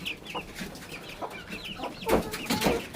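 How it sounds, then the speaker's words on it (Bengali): Aseel chicken chicks on a rooftop give soft, close clucks and brief chirps in quick, uneven bursts, with no talk. "এটা আসিল মুরগির বাচ্চা।"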